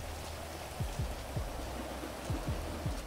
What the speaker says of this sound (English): It was way too loud out there with the rain.